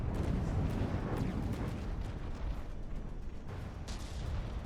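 Battleship guns and interceptors fire in the From the Depths naval combat game, a dense, continuous rumble of booming cannon fire and explosions. The barrage runs heavy and unbroken, with sharper bursts standing out now and then.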